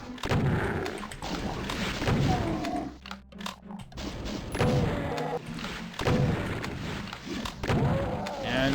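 Chaingunner enemies in Doom open fire with dense, rapid gunfire and heavy thuds that continue throughout, under occasional talking.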